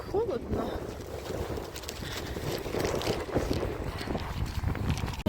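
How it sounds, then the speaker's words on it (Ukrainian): Steady wind buffeting the microphone outdoors, a continuous low rumbling roar with gusty fluctuations. "Вітер"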